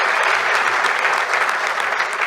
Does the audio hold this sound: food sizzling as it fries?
no